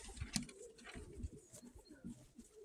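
A pigeon coos in soft low throaty bursts, close but faint, a few separate coos over a quiet background.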